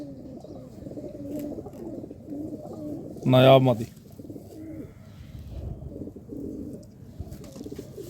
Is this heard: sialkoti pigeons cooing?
yes